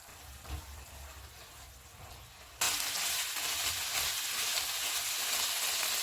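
Chicken frying in oil in a pan on a stovetop turned to medium, a quiet rustle at first, then a loud, steady sizzle that jumps in abruptly and holds to the end, with no voices.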